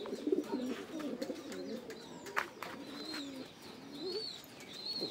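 A pigeon just out of a breeding pen coos in low, rolling bursts, close and fairly steady, with faint high chirps from other birds in the background.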